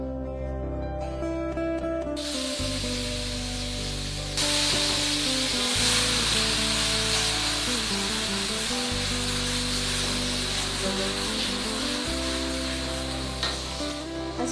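Chili paste sizzles and crackles steadily in hot oil, a constant frying hiss with music playing underneath throughout.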